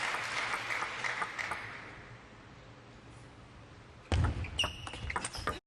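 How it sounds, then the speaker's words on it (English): A table tennis crowd at a men's singles match claps in a light patter that fades over several seconds, then a louder burst of applause and noise returns near the end. "the knowledgeable audience give him a round of applause for that"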